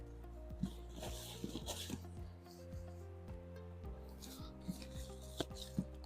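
Wood shavings are tipped and rubbed into a worm bin over leaves and grit, giving a dry rustling and scraping with a few soft knocks, close and steady throughout.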